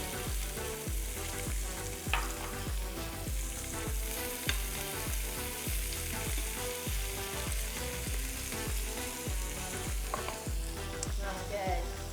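A whole onion and four garlic cloves sizzle in a pressure cooker, loud steady frying broken by rhythmic scraping stirs and a few metallic clinks.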